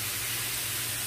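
Adobada, marinated meat, frying in a pan over medium heat makes a brief, steady, close sizzle, an unbroken hiss with no talk over it.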